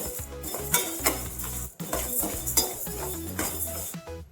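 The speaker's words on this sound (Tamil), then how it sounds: "அரை கப் பச்சை பாசி பருப்பு எடுத்திருக்கேன் அதை வறுத்துக்குவோம்" Green moong dal is dry-roasted in a pan for sweet pongal. A utensil stirs and scrapes the dry lentils in repeated close strokes, each one a rattling clatter of metal and grains, with brief pauses between.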